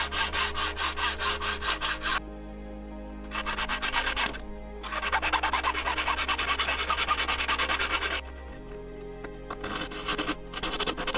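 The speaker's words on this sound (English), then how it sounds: "Once trimmed, we start filing." Hand filing on a freshly trimmed gold tension ring: bursts of rapid, rasping back-and-forth strokes with short pauses between sets, close and steady, with no talking.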